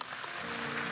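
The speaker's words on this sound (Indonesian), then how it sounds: "Oh kasih tepuk tangan untuk Tuhan Yesus." Applause from a congregation during a Christian church service, a steady broadband clapping wash that fills the full second at moderate level without any voices.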